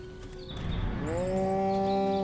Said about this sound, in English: Taking care of the cows.